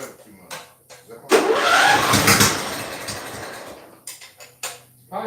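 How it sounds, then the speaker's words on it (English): A car engine cranks and catches, roaring up in a loud rev before easing back down and fading out, followed by scattered mechanical clicks and bumps nearby. "Don't rev it too much."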